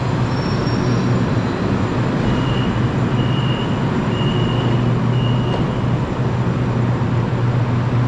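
Malaysian LRT light rail train on the Putra Heights line rumbles steadily with a low, constant hum, joined by faint high whines that come and go.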